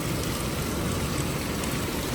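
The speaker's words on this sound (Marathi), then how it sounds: "बाहेर खूप खतरनाक पाऊस पडतो" Dense, steady rain pours down outside at a resort in Karjat, India, before dawn, a constant hissing roar with no pauses.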